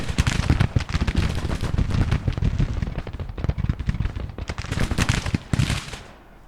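Rapid volleys of booming cannon fire and explosions from a Civil War video game crash one after another, loud and dense, with a brief lull before another barrage.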